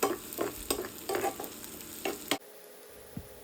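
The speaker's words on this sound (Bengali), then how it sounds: "আরও সামান্য পরিমাণে তেল আমি এখানে অ্যাড করে দিচ্ছি আর দিয়ে দিচ্ছি আস্ত জিরা ফোড়ন" Whole cumin seeds dropped into hot oil for tempering, crackling and popping loudly in bursts for about two seconds before the sizzle cuts out abruptly into near quiet, with one faint click after.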